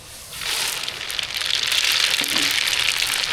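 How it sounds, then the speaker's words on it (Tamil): Mustard seeds sizzle and crackle in hot oil during a sambar tempering, a bright steady frying hiss that swells after a quiet start and stays loud and close. "சாம்பார் தாளிக்கிறதுக்கு என்ன நல்லா சூடாகிட்டு கடுகு சேர்த்துக்கலாம்"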